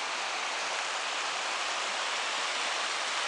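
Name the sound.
rushing river near campsite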